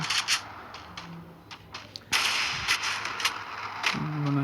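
Sharp snapping gunshots from the Free Fire shooting game crack out in several quick separate bursts, one louder blast in the middle, over faint in-game background sound and with no talking.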